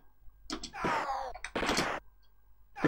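Cannon fire in an Amiga video game, a few loud booming blasts with noisy rumbling tails in two bursts, heard from game sound with no talking.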